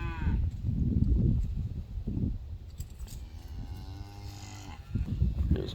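Cattle on a Texas farm, including cows and a white calf gathered under a cedar tree, low drawn-out moos repeating near the listener, with a long bellow in the middle and shorter calls at the start and end.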